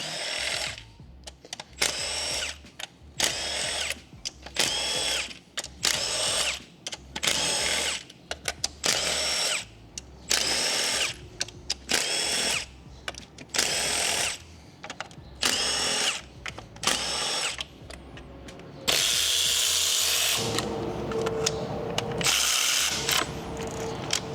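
A power drill or ratchet runs in repeated short bursts, removing E10 bolts from a BMW N47 engine's valve cover, with whirring gear noise between brief pauses and a longer steady run near the end.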